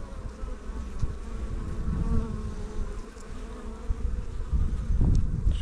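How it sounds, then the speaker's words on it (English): Honey bees from a removed swarm buzz inside a bait hive, a dense, close, continuous drone of many wings with individual bees rising louder as they pass. "So there's still a good amount, healthy amount of bees in here."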